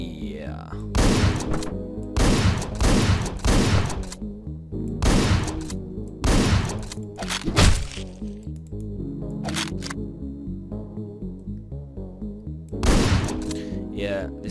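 Gunfire in the top-down shooter Hotline Miami 2 cracks out in repeated sharp bursts and single shots, loud and close, spaced irregularly over a backing of game music.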